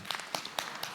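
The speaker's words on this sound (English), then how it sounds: "Round of applause for Victor and all the work he does for this" Audience applause at a historian's lecture, heard as a few scattered, fairly faint claps spaced out over a brief moment rather than a full ovation.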